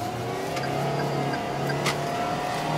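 A Toyota car engine revs steadily at about 4,000 RPM while climbing uphill on a road trip, a continuous close drone with a sustained low hum and faint higher whine throughout.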